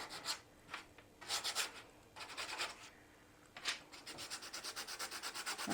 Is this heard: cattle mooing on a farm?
no